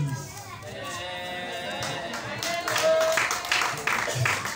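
A church congregation acclaims its preacher with cheering voices and clapping that grows fuller and louder through the second half, over a continuous wash of crowd voices.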